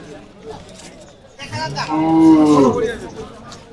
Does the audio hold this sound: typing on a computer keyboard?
no